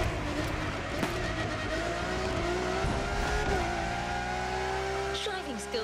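A Lamborghini Countach roars in The Crew Motorfest, its engine climbing through rising revs with shifts and a brief tire squeal, loud and close, with a voice speaking over it.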